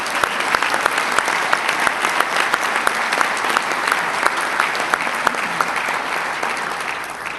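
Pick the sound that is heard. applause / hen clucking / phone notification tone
applause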